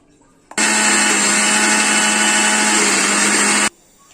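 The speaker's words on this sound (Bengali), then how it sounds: "এখন মিক্সচারে দিয়ে দিলাম এখন মিক্সচার করে নেব" A mixer grinder whirs loud and close as it blends ginger, garlic and green chillies, starting abruptly, holding a steady high motor drone for about three seconds, then cutting off.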